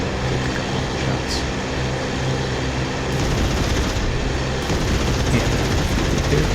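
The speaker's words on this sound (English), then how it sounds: "let's see if we can line him up and take a couple of shots" Flight-sim dogfight with an FW190 D9 firing its guns at a Spitfire in DCS, a continuous loud rattle of gunfire over a steady engine roar, growing denser and heavier partway through.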